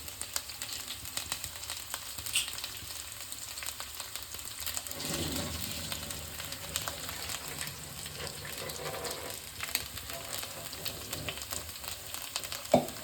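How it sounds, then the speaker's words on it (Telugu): Drained washed rice tipped into a hot pot of oil and spices, giving a faint soft sizzle and hiss with occasional stirring and a little water noise, heard at low level without talking. "మనం కడిగి పెట్టుకున్న రైస్ని డ్రైన్ చేసేసుకొని అందులో వేసేద్దాం"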